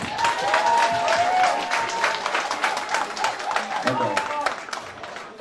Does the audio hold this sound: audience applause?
yes